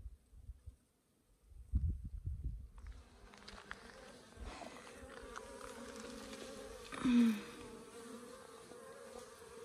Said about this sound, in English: This is one of the bees' favorite places to get water.